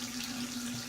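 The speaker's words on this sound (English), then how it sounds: "go ahead and shut the water off" Tap water runs steadily into a sink while makeup brushes are rinsed, a brief continuous close hiss and splash with a faint steady hum underneath.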